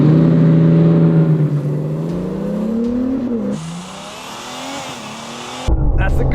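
A diesel car with a smoky tune launches hard, engine roaring loud and near and climbing in pitch through the gears with drops at each shift, before a sharp cutoff and a burst of noise at the end.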